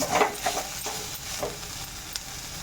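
Grated coconut is stirred into fried greens in a pan: a few soft scraping strokes over a low, steady sizzle, close and quiet, with no speech.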